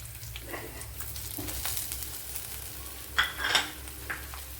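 Garlic, ginger and fenugreek seeds sizzle faintly in hot coconut oil for a vegetable curry, with soft frying hiss and a few clinks and scrapes of a stirring spoon against the pan.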